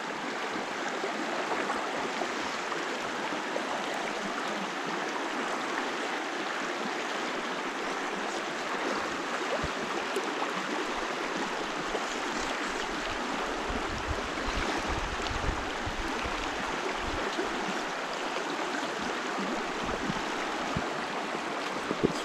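A river current runs steadily over shallow water on the Howqua River, a constant broad rushing wash that stays fairly loud and even throughout with no talk.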